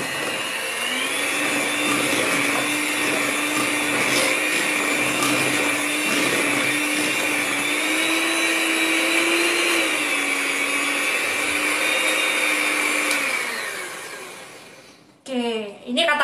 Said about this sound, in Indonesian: ini katakanlah sudah 5 menit mixernya ya